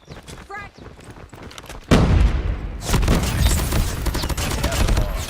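A frag grenade in the video game Call of Duty Mobile bursts with a loud, sudden boom, followed by a second heavy blast and sustained crackling gunfire in a chaotic match, with faint voices earlier.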